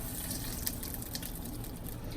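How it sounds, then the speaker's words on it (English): A blended gravy mixture poured into a pan with crumbled bacon and bacon grease, a faint, steady liquid trickle and gurgle lasting a couple of seconds with no talk. "And then just pour it in there."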